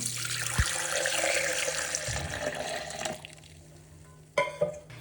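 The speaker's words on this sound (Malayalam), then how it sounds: "നമ്മൾ മിക്സിയുടെ ജാർ എടുത്തിട്ട് ക്യാരറ്റിൻ്റെ ജ്യൂസ് ഒഴിച്ച് കൊടുക്കാം" Carrot juice pours steadily into a mixer jar for a few seconds, a continuous watery rush, followed by a couple of clinks and a brief knock near the end.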